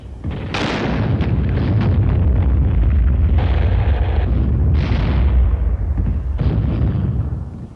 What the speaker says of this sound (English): A new weapon, the recoilless rifle, was used for the first time in combat during the campaign's final days.